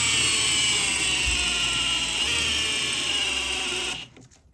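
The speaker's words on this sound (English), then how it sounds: "We're just going to go for the slip with the drill." A power drill whines steadily as it pulls a rope under about 1,300 pounds of load, testing for slip; the loud continuous motor drone runs alone for about four seconds, then cuts off abruptly.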